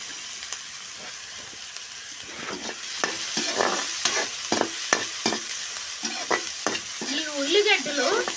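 Onions stirred and fried in a pan until golden for a broad bean and tomato curry give a close, steady sizzle broken by repeated scraping stirs that grow busier toward the end.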